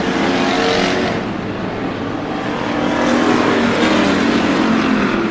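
Race car engines roaring at Bakersfield Speedway, a loud, continuous wall of broadband engine noise that swells slightly as cars pass close by, with no talk.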